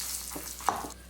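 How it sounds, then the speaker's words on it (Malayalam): Dried red chillies dropped into hot oil for pappadam chammanthi, giving a short, soft sizzle and frying crackle with one brief sharp pop, fairly quiet and close, no voices. "ഇനിയിപ്പോൾ നമുക്കിതിലേക്ക് വറ്റൽമുളക് ഇട്ടിട്ട് ഒന്ന് വറുത്തെടുക്കാം."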